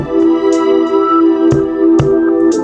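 A sustained synth bass tone and sampled R&B beat on an MPC Sample, with punchy kick drum hits landing around the second and two-second marks, loud and upfront.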